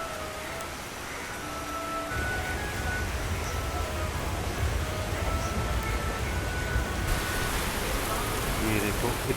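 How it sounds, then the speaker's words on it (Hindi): Heavy rain pours steadily on a broad-gauge train passing through dense forest near Pilibhit, a continuous broadband hiss that thickens after the first two seconds and stays loud throughout, with no talking. "बहुत ख़तरनाक बारिश हो रही है।"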